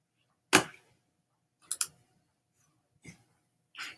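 Four crisp computer mouse clicks spaced about a second apart, close and fairly quiet against near silence.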